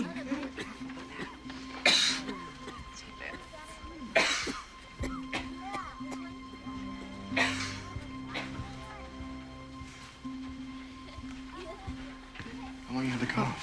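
Several short, harsh coughs spaced a couple of seconds apart, fairly close, over a steady low hum and background murmur, with people talking in between.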